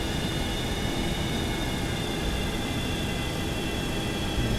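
A T-43A jet taxis along a runway at Miramar in X-Plane 11, its engines giving a steady, loud whine and hiss over a constant low rumble, with no change in rhythm.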